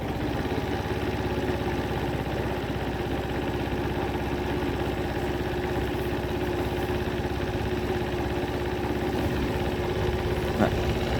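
A Peugeot Kisbee scooter engine idles steadily after a kick start, a continuous close mechanical drone with constant vibration and no breaks throughout.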